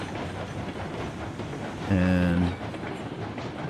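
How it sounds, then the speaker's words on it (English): A steam train runs in the railroad game Railroads Online, a steady rumbling rolling noise with a louder horn-like tonal blast partway through, while a voice speaks briefly. "Got a train running."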